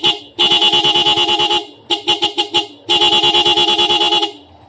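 A loud, bright electric horn on a Suzuki Smash 115 motorcycle honks in three bursts: a long blast, a quick string of short rapid beeps, then another long blast.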